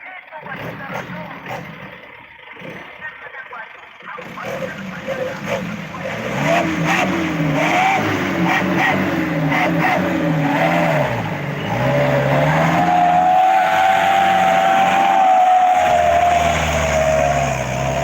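An excavator digging out a swimming pool in loose soil revs its diesel engine hard, a loud rising and falling mechanical roar with hydraulic whine, while a voice speaks over it.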